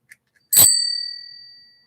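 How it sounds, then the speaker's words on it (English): A single bright bell ding used as a notification sound effect, struck once after a faint tick and ringing out cleanly with a slowly decaying tone. "Hit the notification bell."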